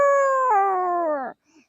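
A four-year-old child imitates a wolf howl: one sustained, wavering howl that dips in pitch partway and fades out, loud and close with no talk over it.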